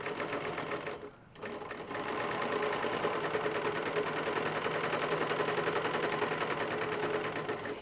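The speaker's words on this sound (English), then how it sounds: "Now we just put it under and we overlock the edge." A serger overlocks the edge of a sewn fabric seam with a loud, steady mechanical whir close by. It halts briefly near the start, then runs continuously to the end.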